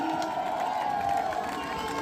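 A crowd at the Narnaul marathon prize ceremony cheers for the winning runner, Bharti from Sonipat, a sustained roar of voices with a sung-out tone and only faint clapping underneath.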